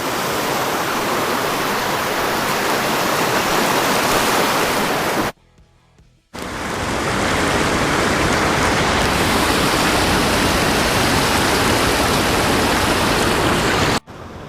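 Loud, steady roar of high, fast-rushing river water, close by, broken by one brief cut to near silence.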